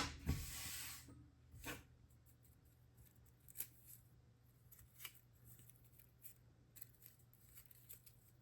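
Scissors cutting a folded paper snowflake, one louder opening snip followed by a run of quiet, irregular close snips and paper rustles, with no talking.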